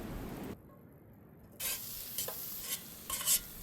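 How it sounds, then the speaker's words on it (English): Rehydrated morel mushrooms dry sauté in a pan, with stirring scrapes and short bursts of sizzle heard up close, broken by a brief quiet gap. "I like to dry saute them for a minute to get rid of the excess moisture from them soaking in the water"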